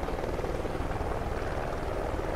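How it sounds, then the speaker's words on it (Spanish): An allied helicopter in the video game Call of Duty: Ghosts gives off a steady, close rotor throb with a continuous engine roar that holds level throughout and plays alone, with no talk. "Piloto de helicóptero aliado."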